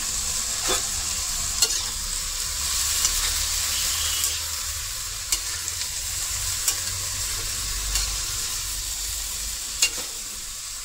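Flat beans (sim) seasoned with cumin, black pepper and salt sizzle steadily in a pan over medium heat, with periodic scraping stir strokes from a utensil breaking through the continuous frying hiss, close and fairly loud.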